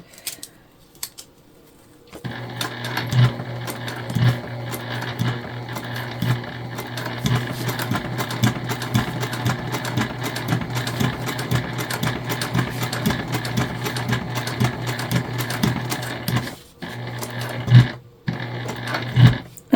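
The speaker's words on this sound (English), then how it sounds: "Again, we're just going to make sure we backstitch well." A sewing machine stitches and backstitches a fabric gift bag, running in a steady close whir with rhythmic needle clatter for most of the stretch, briefly pausing and restarting near the end.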